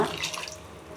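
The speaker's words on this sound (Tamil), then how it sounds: "மிக்ஸி கழுவுனா தண்ணியும் இதில் ஊற்றிக்கலாங்க" Water used to rinse a mixer jar splashes and pours briefly into a pan, a short rushing burst that fades quickly.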